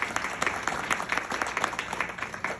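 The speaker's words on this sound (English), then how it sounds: "I just want everybody to give one more round of applause to these two folks right here" Audience at an International Women's Day event applauds two honored guests, a continuous dense wash of clapping from a room full of people, steady and fairly close, with no talking over it.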